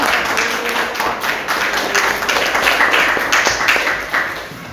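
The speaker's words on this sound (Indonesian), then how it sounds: "Kasih tepuk tangan yang meriah." Pupils in a classroom clap their hands as a group, a loud, close, continuous burst of many claps with some stronger accents, no speech over it.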